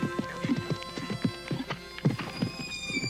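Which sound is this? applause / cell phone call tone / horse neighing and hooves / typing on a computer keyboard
horse neighing and hooves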